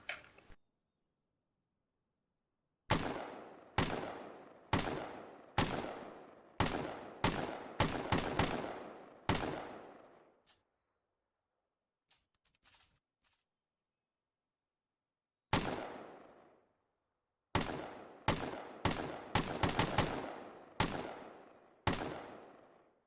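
Gewehr 43 semi-automatic rifle in Arma 3, firing two bursts of sharp, loud single shots separated by a long pause, with a few faint clicks in the gap.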